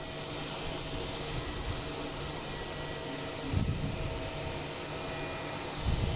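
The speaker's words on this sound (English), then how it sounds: "It's an A321 JetBlue." A JetBlue Airbus A321 jet airliner lined up on runway 15, heard as a steady, moderately loud engine roar with broadband rumble that swells slightly twice, with no talk over it.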